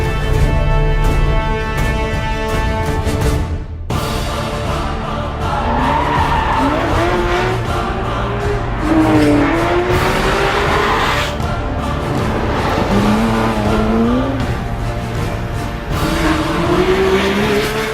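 A Porsche 911 GT3 RS 4.0 is driven hard on the test track at the Porsche Development Center in Weissach, Germany, its loud engine rising and falling through gear changes with tire squeal and skidding, continuous and close.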